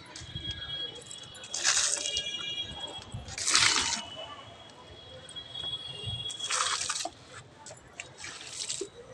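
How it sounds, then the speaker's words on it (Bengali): Water splashes onto potted flowering plants in three separate bursts of pouring and spattering, close by over a faint background hum. "তো গাছে একটু জল দিয়ে দিলাম।"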